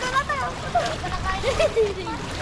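A motorcycle wades through knee-deep floodwater with splashing and sloshing around it, while someone talks over the water sounds throughout.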